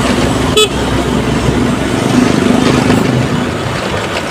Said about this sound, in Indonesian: Banyak mobil-mobil besar juga.